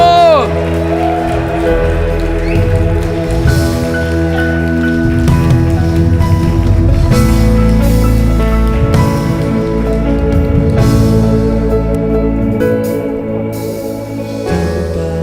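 A church congregation applauds and cheers during worship, with dense clapping and shouting voices layered over sustained music and organ-like tones, loud and continuous throughout.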